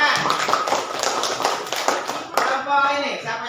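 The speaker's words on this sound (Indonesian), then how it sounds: "Tepuk tangan." A group in a classroom training session claps hands in quick, uneven bursts for a few seconds, then the clapping fades as a person starts talking.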